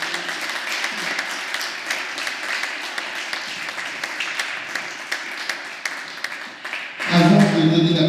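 Conference audience applauds in a steady, dense wash for about seven seconds, then the clapping breaks off into a louder, different sound at the end.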